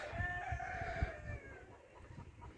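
Chickens at a poultry farm: a rooster crows while hens cluck in short bursts underneath, fairly faint and with no talk.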